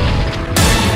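A shotgun blast in the Super Mario 64 video game: one loud, booming shot hits about halfway through and its full-band roar carries to the end, with nothing else heard around it.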